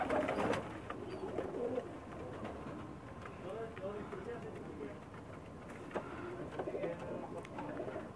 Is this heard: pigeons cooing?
yes